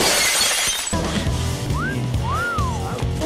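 Glass shatters in a loud burst of bright crashing noise at the start, then cuts to a different scene with whistling tones and low thumping sounds in a cartoon-like edit.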